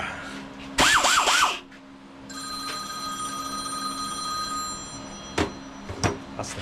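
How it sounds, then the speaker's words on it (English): An old-style telephone bell rings in a single loud trilling burst in a workshop where a Norton bobber motorcycle is being built, followed by quieter tonal hum and a couple of sharp knocks. "That's the phone."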